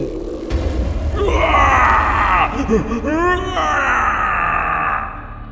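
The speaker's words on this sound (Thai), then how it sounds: "เสียงสมิง ก็กรีดร้อง ราวกับวิญญาณแตกแยกเป็นเสียงเสียงเป็นร้อยเป็นพันชิ้น" The shriek of a were-tiger spirit in a Thai ghost story is a loud, continuous, layered wail of groaning and screaming tones that sweep and waver, then cut off.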